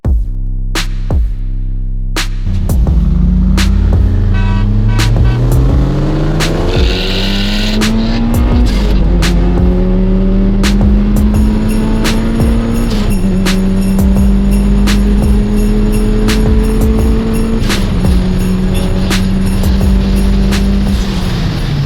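A Honda Prelude Turbo races a Lexus with a swapped 4.3 3UZ V8 engine. Loud engines climb through repeated rising sweeps, each cut by brief gear-change dips, with tire noise underneath and no talk.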